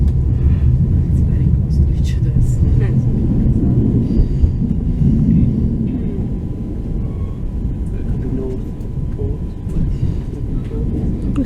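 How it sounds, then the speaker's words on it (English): Steady low rumble of a passenger train running on the Copenhagen–Malmö railway, heard from inside a high-ceilinged carriage, continuous and moderately loud with faint clicks and rattles over the drone. "this is a very nice train with a very high ceiling"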